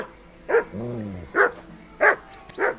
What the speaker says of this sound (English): Má con chó nó sủa liên hồi luôn.